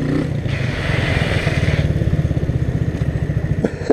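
A Honda CB Twister motorcycle revs close by, its engine throbbing in a fast, loud, even pulse with no voices over it.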